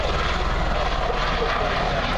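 A Boeing/Bell V-22 Osprey tiltrotor aircraft transitioning to forward flight at an airshow, a loud, steady roar of engines and rotors with a low pulsing throb, continuous and close.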